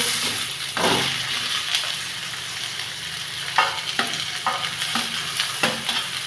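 Vegetables for Bengali shukto fry in a spiced mixture in a pan, giving a steady close sizzle broken by several rhythmic scraping stirs of a spatula.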